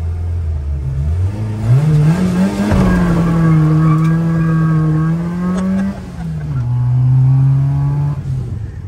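A Renault 4L engine revs hard and loud up close, pitch rising and falling through gear changes over several seconds, with no talk.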